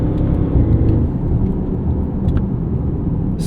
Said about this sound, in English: I love the way that this ZF 8-speed fires off gears